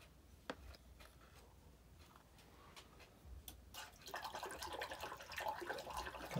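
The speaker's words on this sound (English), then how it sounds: "Rinse it off in the water." A palette knife is rinsed in water, with faint scattered clinks and taps giving way to a soft, continuous sloshing and swishing in the last couple of seconds, quiet and close.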